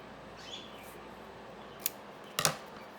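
Scissors cutting a paper offcut in half, a couple of brief crisp snips near the end after a quiet stretch, close and faint, with no talk.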